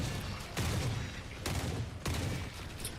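Spectre .45 ACP submachine gun firing in The Forever Winter, three loud close bursts of rapid shots roughly a second apart, each fading into a brief rumble between them.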